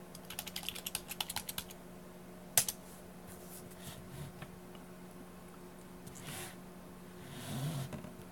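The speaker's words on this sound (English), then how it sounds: "if you plug in a keyboard, it will work again. And you can type in your password." A keyboard plugged into a Surface RT tablet is struck in a quick run of light, close key clicks while a password is typed, followed by a single sharper tap and then quiet room hiss.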